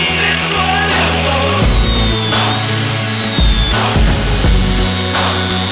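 A power tool grinds loudly and continuously while cutting a new bolt hole in a Jeep Rubicon steering knuckle, its pitch rising and dropping as the load shifts, close-up with no talking.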